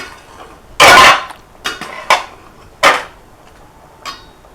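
Metal pot lid set down on a cooking pot while preparing milk-soaked chutki pitha, a loud clanking burst followed by several lighter rattles and taps, close by with no talk.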